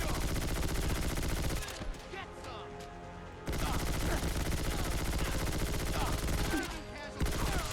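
Brel submachine gun firing in Fallout 4, loud sustained automatic bursts of rapid shots, two long strings separated by a brief pause with lingering echo, then another short break before fire resumes.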